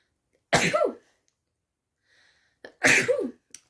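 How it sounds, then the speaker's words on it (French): A person sneezes twice, about two seconds apart, each a sharp, loud burst close to the microphone, with a short faint breath between them and no talk. "Si j'éternue, vous inquiétez pas, hein, c'est normal."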